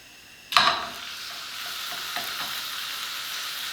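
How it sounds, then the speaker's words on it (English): Pork hits hot oil in a pan with a sharp, loud sizzle, then settles into a steady, close searing hiss that continues to the end. "And you should hear it sizzle right when you put it in."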